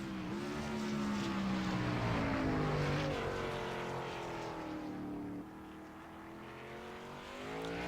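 Race car engine at Mosport during a High Voltage Racing League event, driver easing gently on the throttle; a loud, steady droning whine with gently shifting pitch, dipping slightly toward the end.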